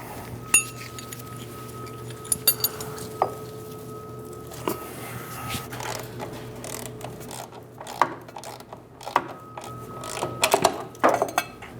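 Wrench work on the center support bearing nuts under a 2001-2006 Chevrolet Silverado driveshaft: scattered metallic clinks and ratcheting clicks, some sharp and close, over a steady mechanical hum.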